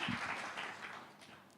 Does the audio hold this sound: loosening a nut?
no